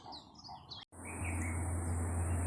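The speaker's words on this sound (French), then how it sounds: "Magnifique oiseau dans ce jacaranda." A bird calls from a jacaranda tree near a hotel in South Africa, giving a few short chirps over a soft outdoor background before an abrupt cut to a steady, louder broadband hiss.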